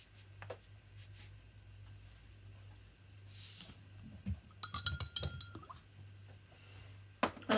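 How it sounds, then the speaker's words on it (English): A spoon stirs salt into a container of water to dissolve it, giving faint scattered clinks and scraping taps near the end, close and quiet over a low steady hum. "I'll stir it until it's dissolved."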